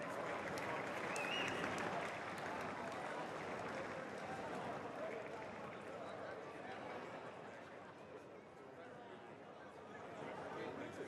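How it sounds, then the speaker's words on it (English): Crowd applause at a greyhound race meeting for the winning dog, a steady wash of clapping with a talking announcer over it throughout. "Please, a round of applause for Greyhound number 1."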